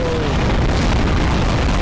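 A bomb goes off in Garry's Mod inside a burning house, filling the clip with a loud, sustained roar of blast and fire rumble with no pauses.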